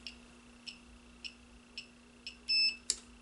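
A servo tester on an X-3 Wing elevon servo gives a train of short, faint, evenly spaced ticks over a steady hum, ending in a longer beep that marks the center of travel, then a final tick.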